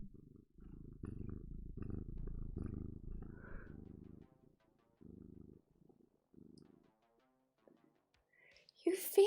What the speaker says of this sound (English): I don't know if you'll be able to hear her purring.